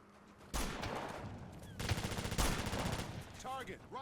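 Gunfire in the military shooter Operation Flashpoint: Dragon Rising: sustained loud automatic fire, rattling in dense bursts for about three seconds and then easing off, with a short voice near the end.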